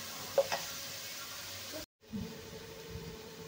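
Onion and ginger-garlic paste sautéing in a pan, a faint steady sizzle with a few stirring taps. A short gap of silence breaks it partway through.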